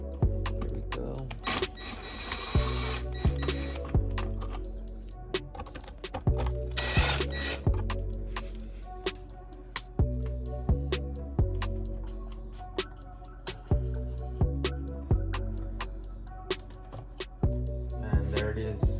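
A ratchet with a 7/32 socket works a stripped bolt during a strut brace install on an 11th-gen Honda Civic Si. A long, steady series of sharp clicking ticks repeats in quick rhythm, close up, with occasional heavier clunks.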